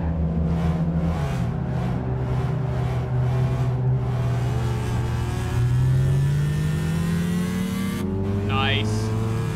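A Renault Clio Sport engine drones steadily with rising and falling pitch as it revs and shifts in the racing game Gran Turismo 5, with a voice talking over it.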